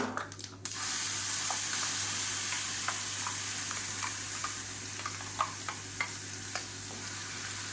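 A pan sizzles and bubbles steadily as chutney simmers, with occasional stirring clinks and a low hum underneath; no one speaks.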